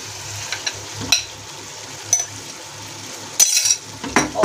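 Roasted eggplant is stirred into a sizzling masala with peas in a pan, with scraping spoon strokes and sharp metallic clinks against the cookware over a steady low frying hiss.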